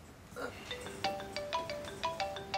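A mobile phone ringtone plays a repeating bright melodic pattern of short tonal notes, steady and moderately loud, with voices murmuring faintly underneath in a domestic scene.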